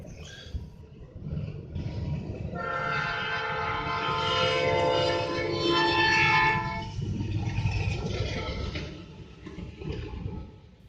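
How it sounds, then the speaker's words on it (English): A Norfolk Southern intermodal freight train led by a single locomotive passes a road crossing in December, its horn sounding loudly for several seconds over the steady rumble of rolling cars, then fading back to wheel and rail noise. "A Norfolk Southern Intermodal with a single locomotive"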